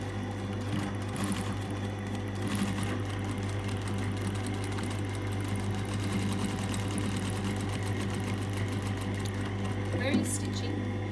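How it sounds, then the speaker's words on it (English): Domestic sewing machine stitching a pocket bearer to the top of a jetted pocket, a steady close mechanical whir running throughout with faint clicks, quiet talk heard alongside. "I'm stitching the pocket bearer to the top of the pocket."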